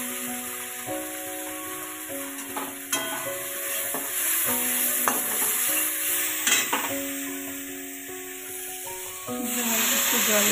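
Chickpea pasta sizzles and hisses in a pan as sauce is added and stirred, with a steady frying crackle, intermittent scraping clicks of the spoon, and background music playing throughout.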